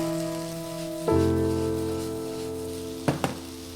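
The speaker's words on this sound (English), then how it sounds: "now that the onions have been sweating for like 3 or 4 minutes and a lot of the moisture is out" Salted onions sweat and sizzle in a hot pan on a home stove: a steady, rain-like crackle that flares louder partway through and is joined near the end by two brief clinks.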